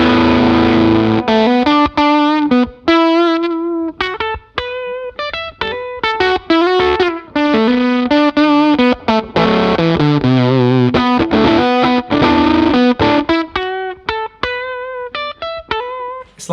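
An electric guitar on a Telecaster bridge pickup plays through a Fuzz Face-style fuzz pedal. The riff is a busy, loud, distorted run of single notes with steady picking and no talking.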